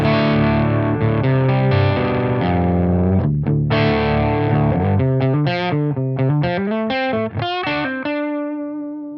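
Electric guitar through a drive pedal at its lowest gain setting plays a run of chords and single notes, with a slightly gritty, warm tone and no talking.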